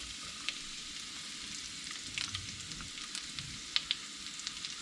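Onions and garlic fry in a pan with a steady, soft sizzle and scattered crackles and pops, close by and fairly quiet, with no one speaking.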